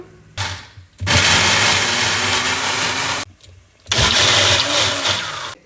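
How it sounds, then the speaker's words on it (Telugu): A kitchen mixer grinder whirs in two loud bursts with a pause between them as it grinds roasted chana dal with green chillies, cumin and a little water, running at full speed close to the microphone. "మిక్సీ ఆడేస్తాను రండి."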